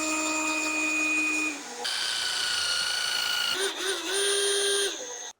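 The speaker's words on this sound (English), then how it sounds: "I'm just going to put 3 screws in here just to hold it down" Cordless power drill driving screws into a wooden privacy wall frame, steady high whining motor bursts with brief pauses between, close and fairly loud.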